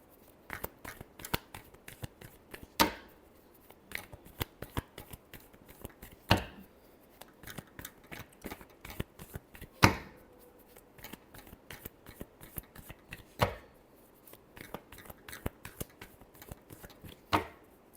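Tarot cards shuffled by hand in a quiet room, a dense run of soft riffling flicks punctuated by sharper snaps and taps every few seconds, close and alone with no talking.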